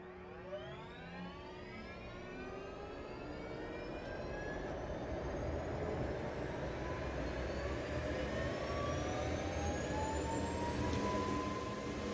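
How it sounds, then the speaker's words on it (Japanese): An MH-60 helicopter's auxiliary power unit starting up in a Microsoft Flight Simulator add-on: a turbine whine rising steadily in pitch over several seconds, building from quiet to a sustained, moderately loud high-pitched hum. "APU の音なんですが、とてもいい音です。"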